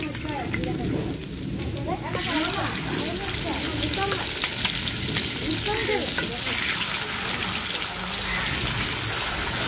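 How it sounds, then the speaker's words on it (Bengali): Spice-coated hilsa fish pieces sizzle loudly as they drop into hot oil tempered with whole spices, a dense continuous frying hiss with stirring, up close while a voice talks faintly underneath. "এখন মশলা দিয়ে মাখানো মাছ দিয়ে দিব"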